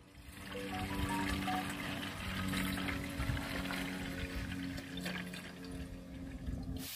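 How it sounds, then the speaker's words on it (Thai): Soap-and-water pest spray made from leftover soap scraps is poured into a sprayer tank, a steady trickling, splashing stream of liquid that runs continuously and fairly close. "แล้วเรานำใส่ถังฉีดพ่นกันเลยครับ"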